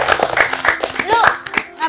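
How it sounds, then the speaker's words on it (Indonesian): Members of a comedians' team clap their hands in a quick, uneven burst of close claps, heard alongside voices talking. "Tepuk tangan dong"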